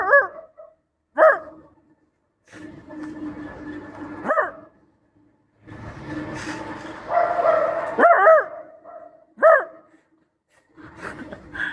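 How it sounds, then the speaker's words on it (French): A dog barks in separate short bursts, a few yips and barks spaced out over several seconds, close by, with people talking and some background clatter in between. "Le chien, il croit qu'il y a un chien."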